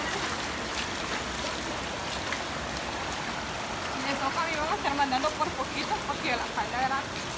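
Floodwater rushes over a bridge after heavy rain, a constant loud broadband roar of flowing water, while voices talk faintly beneath it toward the end.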